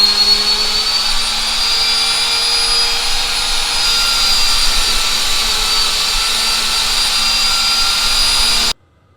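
A Sioux 645 valve grinder dresses a grinding stone with a loud, steady whining drone and faint high tones, held close for about nine seconds before cutting off abruptly.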